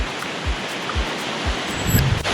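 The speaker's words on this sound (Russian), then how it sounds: "Есть легкие волны." Light waves lap gently in a small beach cove at Búzios, Brazil, a soft, continuous wash of surf with a few faint low thumps and no voices.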